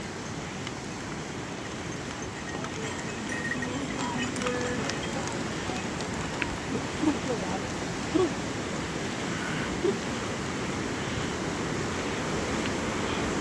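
A fast mountain river rushes beneath snow-capped peaks, a steady broadband roar filling the scene, with a few faint clops suggesting horses passing nearby.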